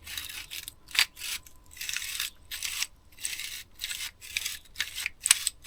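Gritty grinding and ratcheting from the mechanism of a vintage army Tirfor winch before cleaning, heard as a series of rough, rasping bursts in an uneven rhythm, close and fairly loud, with no talk.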